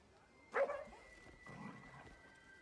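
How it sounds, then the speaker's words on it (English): A small mutt barks once sharply and fairly close in Death Stranding 2, followed by softer yips and whimpering noises, with faint talking in the background. "What a gorgeous little mutt"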